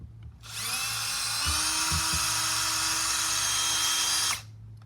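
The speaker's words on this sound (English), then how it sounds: "I'm just going to be using a Milwaukee M18. And I'm going to drill a hole through here." Milwaukee M18 cordless drill boring a hole while making a primitive pickaxe, a loud steady high whine held for about four seconds, starting and stopping cleanly, with a low background hum underneath.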